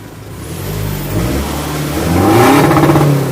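Manual-transmission four-wheel-drive Ford Ranger T6 Wildtrak 2.2 diesel, remapped, revving: a steady engine drone that climbs in pitch and volume toward the end, close by and without speech.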